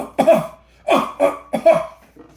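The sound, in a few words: cough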